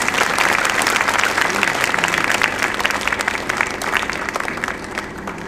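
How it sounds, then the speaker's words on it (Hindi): A seated audience at a Shivratri celebration and hall inauguration breaks into loud, sustained clapping, a dense steady wash of many hands lasting throughout. "अपने भाग्य की जरा ताली बजाएं।"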